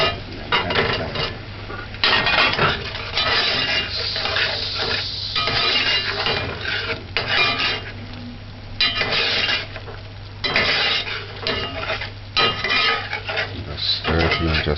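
A spoon stirs pimento seed and plantain in a pot for plantain rundung, with steady scraping and clinking against the metal sides, fairly loud and close, continuing without pause and no voice over it.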